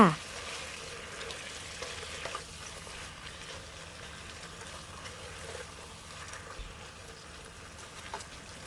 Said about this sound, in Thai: เราก็จะผัดใบกะเพรานะคะ ไม่ผัดนานนะคะ ผัดพอแค่ใบกะเพราสลดลงไปเท่านั้นค่ะ